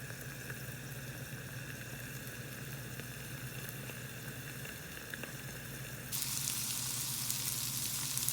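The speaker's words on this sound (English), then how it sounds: "So I started off by frying an egg and some sausage links, as well as some ham." An egg, sausage links and ham fry together in a pan, giving a steady, close sizzle that swells noticeably louder and brighter near the end.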